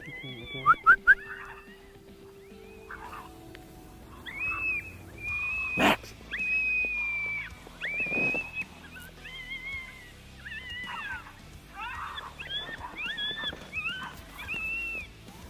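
An electronic predator call plays coyote pup fighting sounds outdoors on the South Dakota prairie, a run of high yips, squeals and whines that come in quick broken bursts, with a few sharp knocks near the start.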